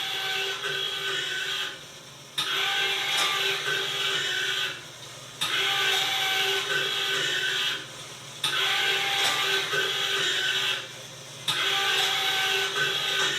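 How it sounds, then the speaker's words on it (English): A donut machine's hopper motor runs steadily with a mechanical whirr and rattle, broken by four regular brief dips as donuts feed into the machine's sections, close and loud with no talking. "turn on the master hopper motor switch, which will activate the hopper motor itself"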